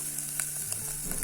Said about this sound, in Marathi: चटणी टाकूया. लाल तिखट.